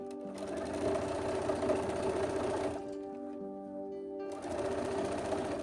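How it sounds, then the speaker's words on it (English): A sewing machine runs steadily stitching along the folded hem of a dress, a close, even mechanical whir that pauses briefly midway before starting again, with no talking. "we're going to stitch right along this edge to finish it"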